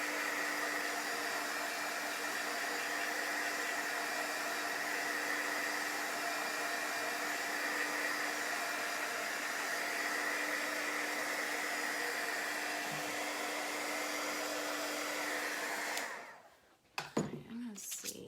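A hair dryer blows in a steady, loud, continuous rush while drying shimmer paste on a chalk-craft project, then shuts off near the end, followed by brief handling noises.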